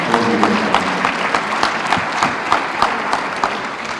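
An audience at a chamber of commerce awards event applauds Jim Rosenberg, with close, loud clapping from many hands, sustained and even for a few seconds with a few sharper claps standing out.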